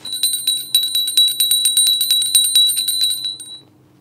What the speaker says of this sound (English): Then someone gave her a little bell and she started playing it